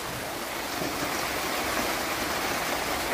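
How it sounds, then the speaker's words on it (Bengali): Steady rain pours down on a cloudy, windy afternoon in Bangladesh, a dense unbroken hiss that fills the whole moment with no voices. "বন্ধুরা বৃষ্টি হচ্ছে"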